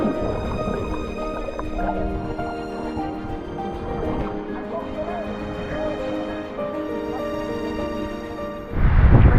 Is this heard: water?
yes